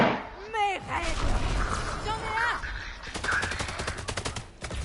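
Gunfire and fast shot bursts from the Valorant video game sound under excited talk between players, with sharp electronic effects and close volleys of shots.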